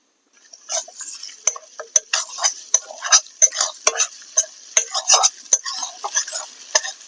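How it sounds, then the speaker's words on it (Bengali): Crushed ginger and garlic hit a hot pan with potatoes, tomato and onion and are stirred: a steady close sizzle broken by repeated sharp spatula scrapes and clinks against the metal pan. "এবারে থেতো করে রাখা আদা রসুন দিয়ে দিচ্ছি।"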